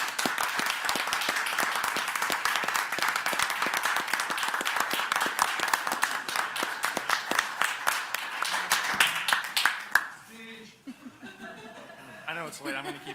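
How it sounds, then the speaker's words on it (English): Applause at a city commission meeting: a roomful of people clap steadily and loudly for about ten seconds, then the clapping dies away and a single speaker begins talking. "So if we can get a round of applause for Devon, I'd appreciate it."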